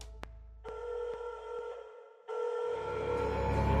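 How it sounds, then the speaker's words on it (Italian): Incoming call ringing on the 113 police emergency line in Teramo, Italy, in April 2011: electronic ringing tones come in two steady bursts separated by a short gap, clear and alone with no talking. "alle ore 16, al 113, arriva questa telefonata."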